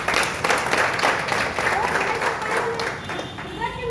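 An audience claps in applause at a gathering, a sustained mass of hand claps with some voices mixed in, moderately distant and fairly even.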